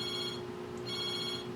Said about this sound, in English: We're gonna have to turn that phone off.